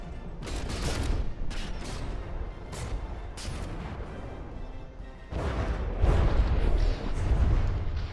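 Warship shells fire and land during a naval battle in a video game, producing a dense rolling wash of booms and rumbling impacts that swells louder in the second half, continuous and close.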